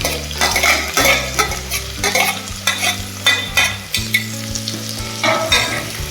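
Sliced onions with salt sizzle and fry steadily in a hot pan for a Kerala-style beef curry with raw banana, with stirring scrapes breaking through the continuous crackle, close and fairly loud, with no talking.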